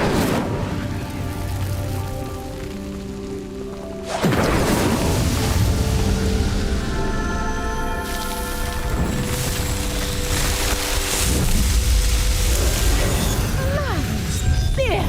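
Incendio fire spell cast in Hogwarts Legacy, a loud burst at about four seconds that swells into a sustained crackling, roaring blaze under game music and ambience, with a few further pops and crashes later.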